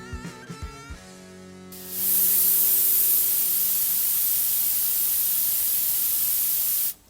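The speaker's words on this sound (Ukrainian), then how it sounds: "Це звук подачі е, стисненого повітря, азоту, вуглекислого газу." Compressed air, nitrogen or carbon dioxide bursts on at a craft brewery with a loud, steady hiss that holds for several seconds and then cuts off abruptly, following a few short tonal knocks.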